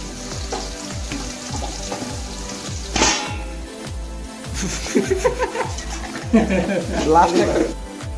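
Onions hitting hot oil for biryani give a continuous frying sizzle with stirring, heard under talk and laughter from a group of friends nearby.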